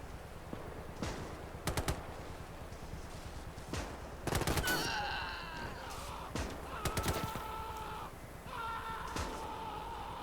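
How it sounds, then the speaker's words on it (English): Machine gun fire in the Gates of Hell strategy game's Finland campaign comes in several short bursts of rapid shots among other battle noises, moderately loud over a constant low rumble of background sound. "Ah, there's the machine gun."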